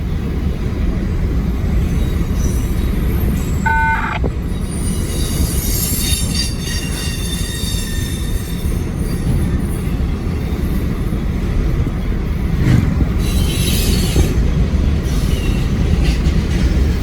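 A very heavy freight train with locomotives on the front and rear rolls steadily past, its wheels rumbling and squealing on the rails. The grinding continues unbroken and fairly close, with clanking car noise rising and falling.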